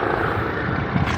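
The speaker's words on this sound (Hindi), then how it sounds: "आज जहाज़ नहीं, आज हेलीकॉप्टर दिखाता हूँ आपको।" Helicopter flying overhead, a steady broadband rotor and engine roar that fills the whole brief moment without pause, fairly close and loud.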